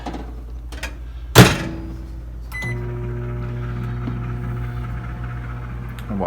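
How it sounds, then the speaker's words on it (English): A microwave oven warming solidified butter: a door thunk, then a steady mid-loud electric hum running continuously, alone without voices. "And into the microwave goes the butter, which of course had solidified overnight."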